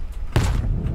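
A grenade goes off in the video game S.T.A.L.K.E.R. 2 as one sudden, muffled boom with a heavy low thud, which fades quickly into background rumble.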